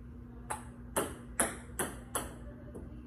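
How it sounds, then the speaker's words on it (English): A table tennis ball struck with a normal side spin, five crisp ringing pings at an even rhythm with brief decays, then a fainter tap, close by and alone without talk. "This is the normal side spin that I'm about to do."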